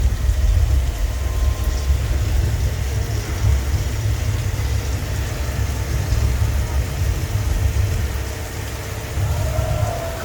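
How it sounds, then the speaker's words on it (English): A deep, continuous low rumble of a flash flood heading toward a tram ride fills the scene, steady and heavy like rushing water or machinery in the distance, with no voices. "A flash flood heading straight for the tram."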